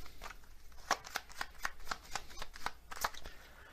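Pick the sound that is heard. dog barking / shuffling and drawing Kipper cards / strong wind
shuffling and drawing Kipper cards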